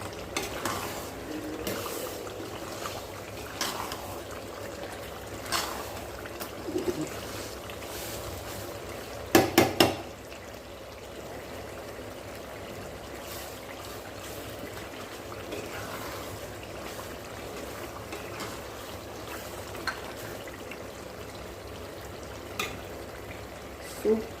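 Andhra citron pickle is stirred and mixed in a pan, faint low sizzling with scattered soft scrapes and a brief cluster of sharper clinks partway through, quiet throughout.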